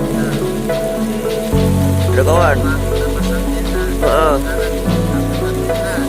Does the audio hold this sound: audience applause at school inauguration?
no